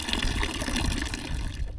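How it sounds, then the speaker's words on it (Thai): Tap water in a rural village near the Vietnamese border runs steadily, a continuous broadband splashing rush that holds even for about two seconds, close and moderately loud with no talk. "น้ำก๊อกในหมู่บ้านเฮา น้ำสะดวกสบายไหลบ่ขาดทรายนะ"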